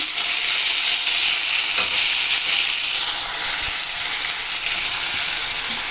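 Boiled, half-cooked carrots being stirred into a sizzling pan of frying curry mixture, with a steady close hiss of frying and faint scraping of the stirring throughout, no talking.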